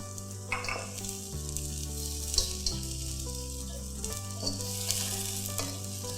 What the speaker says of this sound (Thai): ก็ใส่ถั่วงอกลงไปเลยค่ะ ตามด้วยน้ำปลานะคะให้มีรสชาติ